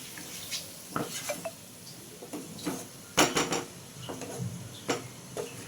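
Papaya and moong dal fry with spices in a pan while being stirred, with quiet scattered scrapes and clinks of a spoon against the pan over a faint sizzle, close and irregular.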